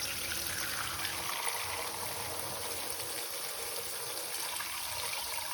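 Water runs steadily into a metal bowl over stale bread, a continuous soft gushing and trickling with no talk over it.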